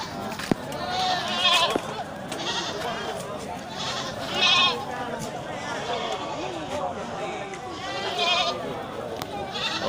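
Kacang goats and sheep held for sale before Qurban give several bleats around a busy pen, with a couple of louder calls standing out over a constant murmur of background voices and shuffling.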